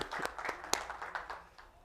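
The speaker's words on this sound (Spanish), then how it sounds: "Un aplauso para Flor Oscar." A small audience at a cooking demonstration gives brief, sparse applause for Flor Oscar, a handful of close, light hand claps that trail off quickly.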